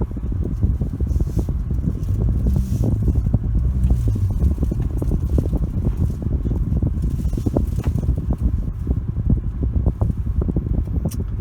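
A 2018 Ford Escape AWD turbo runs at a drag strip, heard as a loud, steady, low engine and road drone from close range that holds level throughout.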